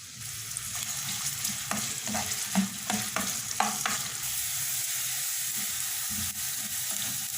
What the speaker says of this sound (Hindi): एक दरमियाने साइज़ का प्याज स्लाइसिस में कटा हुआ और इस प्याज को गोल्डन ब्राउन फ्राई कर लेंगे।